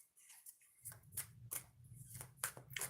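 Oracle cards are cut and handled up close, a few soft crisp slaps and riffling flicks over a low background hum, quiet and brief with no talk.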